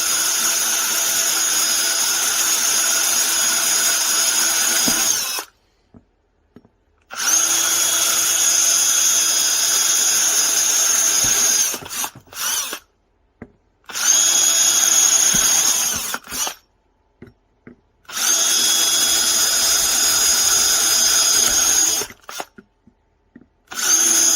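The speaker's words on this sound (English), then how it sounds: "If you wobble the drill bit a little bit, it might help get rid of that plastic a little faster." A power drill whines in several sustained bursts separated by short pauses, close and loud, with brief stops and restarts as it bores through the plastic of a Ford Bronco (sixth generation) rear door pocket.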